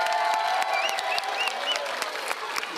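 Crowd applauding at a pickleball championship, with sustained clapping and some cheering across the whole stretch, fairly close and steady.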